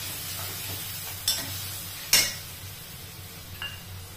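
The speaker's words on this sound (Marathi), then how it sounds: "कांदा बारीक चिरून घेतला मी इथे एक कांदा. चांगला परतू द्यायचा आता आपल्याला हे सगळं." Finely chopped onion being sautéed in a pan: a steady low sizzle with two or three sharp scrapes and clinks of a spoon against the metal, close by.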